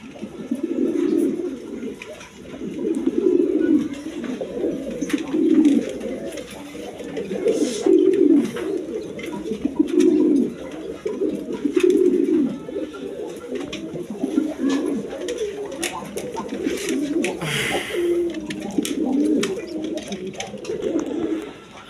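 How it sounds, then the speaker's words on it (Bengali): Coloured Giribaz pigeons cooing close by among many birds, repeated rhythmic low coos in pulses throughout, with faint rustling and occasional flutter in the background. "এরকম বাচ্চা কাচ্চা সহ অনেক কবুতর আছে।"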